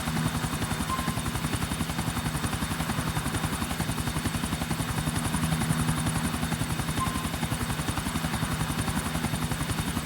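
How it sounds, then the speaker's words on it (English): A helicopter in Grand Theft Auto IV, its rotor chopping in a steady rapid rhythm with an engine whine, loud and continuous throughout with no voices. "Get in the chopper, everyone!"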